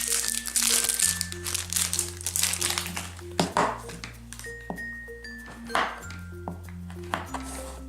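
Chocolate bar wrappers crinkle and tear up close as they are opened, in bursts of crisp rustling with a few dull thunks, while steady tonal music plays underneath.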